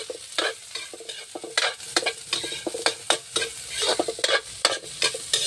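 Bird's eye chilies (siling labuyo) fry in a hot pan while a utensil stirs them, giving repeated sharp scraping strokes over a steady close sizzle, with no talking.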